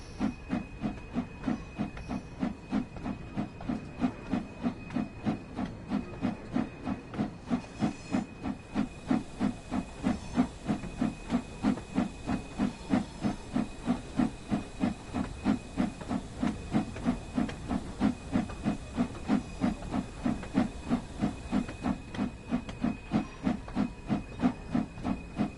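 A steam locomotive 8F in the Train Sim World 3 video game chuffs steadily in a fast, regular rhythm, with a constant hiss of steam beneath the beats, heard alone throughout.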